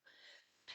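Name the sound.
sneeze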